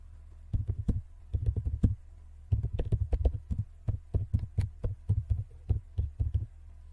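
Keystrokes on a computer keyboard clatter in quick clustered bursts with short pauses between them, close and fairly quiet over a steady low hum, and no one speaks.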